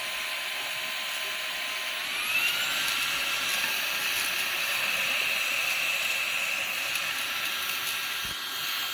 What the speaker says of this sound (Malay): memang macam jet eh vacuum ni